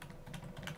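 A quick burst of keystrokes as code is typed on a computer keyboard while writing a Visual Basic .NET program; the clicks are close, steady and fairly soft, with no talking.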